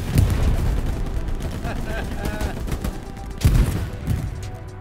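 Rockets fired at infantry in a World War II video game, heavy booming blasts and rumbling explosions layered over continuous battle noise, loud and dense, with a strong burst near the end.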